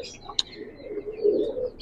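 Imamdeen pigeons coo softly nearby, a low, throaty, rolling murmur that swells toward the end, with a short bright chirp early on.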